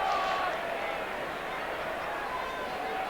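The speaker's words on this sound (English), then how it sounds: "And the crowd loving it." A large football crowd at the SCG in Sydney during a 1987 VFL match between Sydney and Essendon roars in a broad, steady wash of cheering and murmur, distant and sustained across the whole moment.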